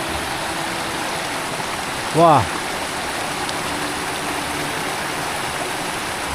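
A river flows past the path in a rural area, making a constant loud rushing wash of water. A short voiced exclamation breaks through briefly near the middle.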